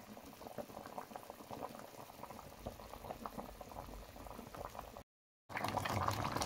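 Vegetables boiling in a covered pot of water, a steady close bubbling and churning that runs continuously, cuts out briefly to silence, then returns louder.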